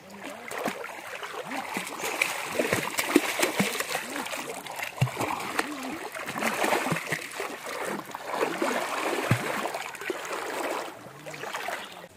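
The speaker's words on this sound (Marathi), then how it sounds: "पाणी वाहत येतं खाली" Shallow village river water splashes and rushes steadily, with frequent sloshing from people and bullocks wading and swimming nearby, while voices talk and call over the continuous flow.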